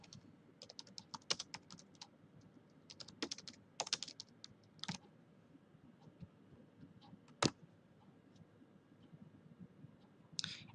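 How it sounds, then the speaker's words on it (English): Quiet typing of search terms on a computer keyboard, with short irregular bursts of light key clicks and a few louder isolated taps, close and alone without speech. "So now you want to type in your key terms."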